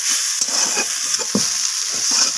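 Neem leaves and eggplant stir-fry in a hot pan, a steady close sizzle broken by repeated scraping strokes of a spatula, with no voices.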